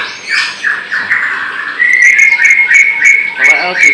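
Murai songbirds kept in Boyolali call loudly and close, with repeated rising whistles and squawky chirps stacking into a bright, continuous run of song.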